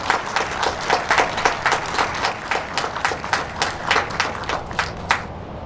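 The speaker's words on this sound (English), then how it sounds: "give them a round of applause for managing this" Audience clapping at a ribbon cutting for the Lanett Welcome Center in Alabama, a steady run of moderately loud claps with no talk over it that fades out near the end.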